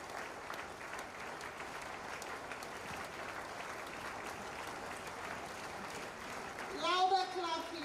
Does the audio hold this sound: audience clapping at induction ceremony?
yes